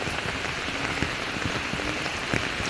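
Steady rain pattering densely on surfaces in a flooded backyard nearby, a constant hiss with scattered drip taps and no voices.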